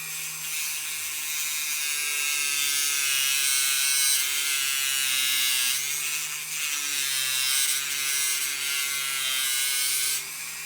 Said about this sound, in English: I'm going to use my little Dremel cutting disc and I'm just going to cut on the shaft right next to the wheel